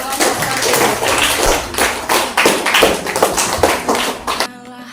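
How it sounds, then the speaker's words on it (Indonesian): A classroom group claps for several seconds in brisk, uneven bursts of many hands, close and loud, before the applause cuts off abruptly. "Ayo beri tepuk tangan untuk kelompok kami."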